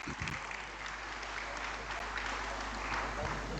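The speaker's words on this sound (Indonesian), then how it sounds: "Semua kita tepuk tangan untuk Ibu Sri Kandi." A gathering applauds Ibu Sri Kandi at an inauguration ceremony, sustained clapping from a crowd heard as an even roar over a low steady hum, with no pauses.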